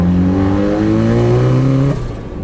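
A loud car engine on a dyno, turbo boost at 8-9 PSI, revs hard, its pitch climbing steadily before the throttle cuts and the roar drops away.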